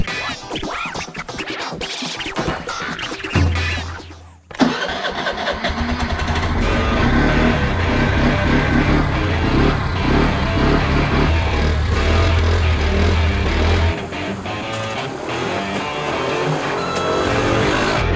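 A small moped engine starts up after some scraping and handling noises, then settles into a steady, loud mid-pitched idle that runs on close by to power a blower at a rural glassmaking setup, dropping slightly in level near the end.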